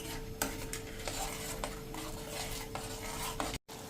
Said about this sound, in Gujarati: એને આપણે બબલ્સ આવે ને ત્યાં સુધી, ચીપચીપું થાય ને ત્યાં સુધી એને આપણે આ રીતે ગેસ ઉપર મીડિયમ ફ્લેમ ઉપર ચલાવશું